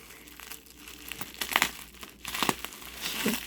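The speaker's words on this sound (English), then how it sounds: "That's why I use an X-Acto blade." An X-Acto blade cuts into a package of postcards, giving faint, close crinkling and tearing of paper and plastic in short bursts with quiet gaps between.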